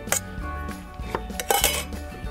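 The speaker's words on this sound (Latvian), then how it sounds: "Blenderī es lieku tos izmērcētos Indijas riekstus." Soaked cashew nuts being put into a blender, with close, clattering knocks of nuts, a spoon and the glass jar in a few uneven bursts, no talk.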